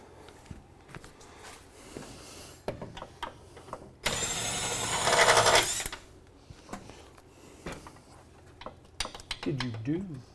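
Impact wrench spinning engine bolts out of a 1970 Camaro SS RS 350 V8, one loud two-second buzzing burst between scattered shop clatter, with people talking.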